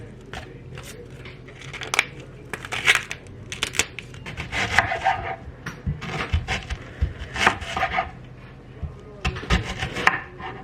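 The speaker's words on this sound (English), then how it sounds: "we're gonna start by chopping up half of this onion." Irregular knife chops through an onion on a cutting board, sharp crisp strikes in quick bursts separated by brief pauses, close by.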